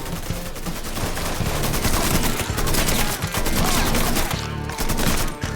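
Heavy, continuous gunfire in the video game Mafia 3: Definitive Edition, with many overlapping loud shots and rapid automatic bursts forming a dense, chaotic firefight that barely lets up.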